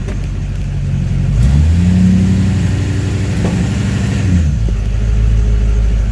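A Duramax diesel pickup engine that runs poorly idles with a low rumble, rises into a rev for a few seconds, then settles back down to idle.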